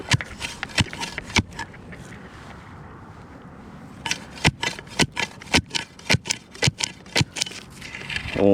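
A steel soil probe driven down into a septic trench grates against buried gravel in a run of sharp, repeated scraping strikes, with a quieter stretch between bursts of crunching contact.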